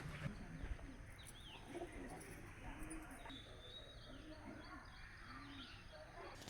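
Pigeons coo in a series of soft, low, rounded calls repeating through the scene, set against steady background noise with people talking nearby.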